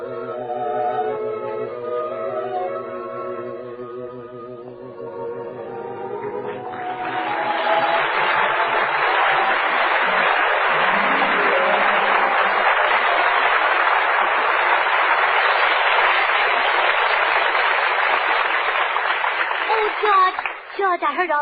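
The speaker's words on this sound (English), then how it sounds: "I heard all that applause outside." Audience applause from outside a room at a comedy venue swells after a few seconds of voices and music, then holds as a dense, steady roar of clapping for the rest of the stretch.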